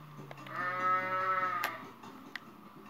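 A goat in the Goat Simulator video game on PS4 lets out a single drawn-out, wavering bleat lasting over a second, close and clear, with brief game noises around it.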